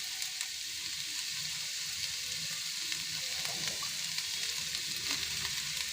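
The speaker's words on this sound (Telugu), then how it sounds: "ఉల్లిపాయలు అటు ఇటు తిప్పుకుంటూ వేయించాలి" Onions fry in a pan for a dhaba-style egg masala curry, a dense unbroken sizzle overlaid with quiet scraping as they are turned back and forth.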